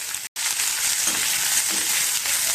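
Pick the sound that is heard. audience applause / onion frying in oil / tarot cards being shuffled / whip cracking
onion frying in oil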